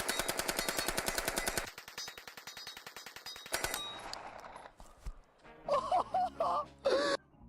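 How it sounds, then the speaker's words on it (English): A WW2 submachine gun with its stock unfolded fires a rapid close burst of evenly spaced shots, then a second shorter string. Softer tonal noises and a brief vocal sound follow as the firing stops. "now let us unfold this stock and give it a try shooting with a stock"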